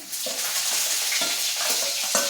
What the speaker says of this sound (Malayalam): ഇനി നമുക്കതിൽ കുറച്ച് വറ്റൻമുളക് ഇട്ട് കൊടുക്കാം അതിലേക്ക് ഇഞ്ചി ഇട്ട് കൊടുക്കാം